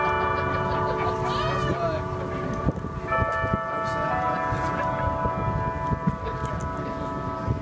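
Church bells peal continuously with long overlapping ringing tones, loud and sustained, with faint voices and crowd murmur beneath at an outdoor marker dedication in Salina.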